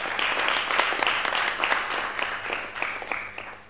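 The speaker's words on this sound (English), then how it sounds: "And I want us to applaud AGRA for the collective work." An audience at the AGRA strategy launch event applauds, steady clapping that swells briefly and then gradually tapers off, with no voices over it.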